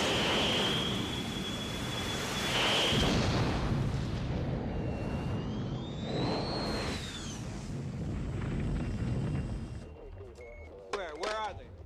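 Missile fired from a Grumman F-14 Tomcat in the 1986 Top Gun air combat scenes, a loud whooshing roar with rising and falling whistling tones, then a sharper burst near the end.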